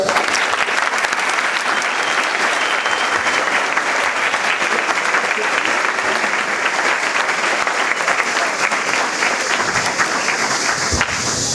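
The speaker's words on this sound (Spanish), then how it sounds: "Los recibimos con un fuerte aplauso." Loud, sustained applause from an audience welcoming guests at an event with Malvinas veterans, a dense, continuous roar of many hands clapping close by at steady strength from start to finish.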